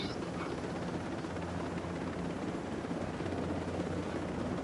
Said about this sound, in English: Finding a chopper in Ghost Recon and it actually has miniguns?